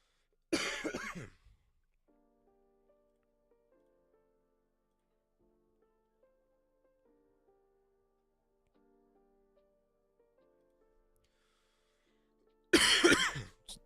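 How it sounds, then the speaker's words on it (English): A person coughs in two loud, harsh bursts, one at the start and one at the end, separated by a long near-silent gap with faint tonal background sounds. "Sorry, I don't mean to keep coughing."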